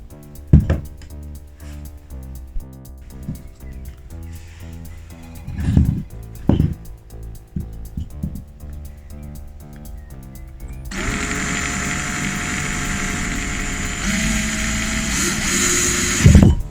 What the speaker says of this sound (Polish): Wkrętarka, wiertłoczwórka i wiercimy otwór w tym miejscu.